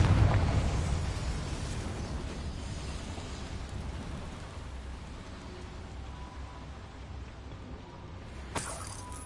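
A Confringo blasting spell explodes in the Hogwarts Legacy video game, set in a mine: a loud burst opens, then a long rumbling, crackling decay with a sharp pop near the end.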